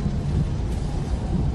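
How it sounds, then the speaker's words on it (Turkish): Low rumbling thunder from a storm over the Pacific in a film, a steady deep roll with wind-like noise that lasts the whole short stretch. "Şimdiden şimşekler başladı,"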